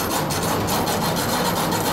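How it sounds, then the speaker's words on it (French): Hacksaw cutting through metal chains, a fast steady rasping stroke repeated several times a second, close and loud with no talking. "Voici ta scie à métaux et je vais te chronométrer pendant 1 minute."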